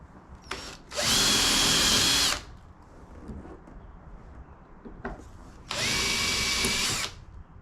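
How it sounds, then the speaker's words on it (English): A power drill drills out the rivets along the bottom of an MG TF soft top, two loud sustained bursts of about a second each, separated by quieter handling clicks. "Along the bottom here is a row of rivets, so the next job is going to be to drill those out."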